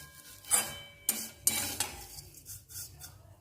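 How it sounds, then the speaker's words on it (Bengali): Vermicelli stirred as it fries in hot ghee, with a few distinct scraping clinks of a utensil against the pan over a faint background sizzle. "ঘিটা গরম হয়ে গেছে, আমি এবার সিমুইগুলো দিয়ে দিচ্ছি"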